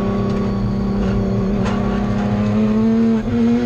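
A Nissan 300ZX race car drives a test session on a wet Winton track, its engine a loud, close, steady drone with strong harmonics that rises slightly in pitch toward the end.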